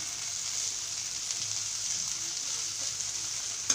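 Cauliflower and peas frying in oil with coriander mixed in give a steady, soft sizzle throughout, close and even, with faint stirring scrapes and no talk.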